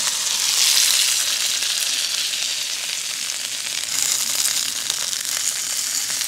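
Thick meat fries in a partly lidded pan on a camping stove outdoors, giving a loud, close, continuous sizzling hiss with crackling spatters throughout.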